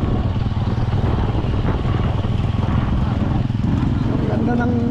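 A Honda CRF motorcycle rides along an off-road track, its engine droning steadily and close throughout, with a rider talking over the running motor.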